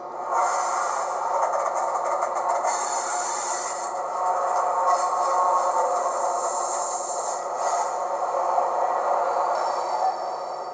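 A Dapol Class 68 model locomotive's sound decoder plays a wheel flange squeal, a steady, shrill metallic screech with a hissing rail rumble beneath, continuous and even over about ten seconds.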